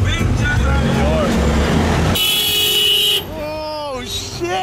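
A car horn honks in a sustained blast, loud and close, with a voice talking before and after it over a rumbling background.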